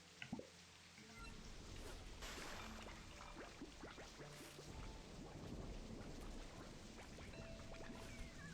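Thunderstorm weather in the video game Slime Rancher 2, with steady rain hiss and scattered drips, a low rumbling thunder swell, and faint crackles over about eight seconds.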